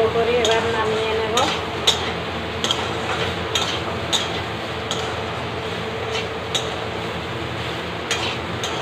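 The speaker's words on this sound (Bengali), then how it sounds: "সোয়াবিন ভেজে নিয়েছি ভালো করে, এবার নামিয়ে নেব।" Soybean chunks frying in a pan, with a faint steady sizzle and regular stirring taps of a utensil on the pan, one briefly rising whistle-like tone near the start.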